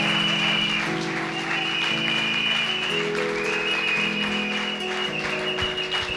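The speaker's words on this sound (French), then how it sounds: "Acclame très fort." A church congregation applauds loudly and continuously, dense clapping over sustained keyboard chords with a few voices mixed in.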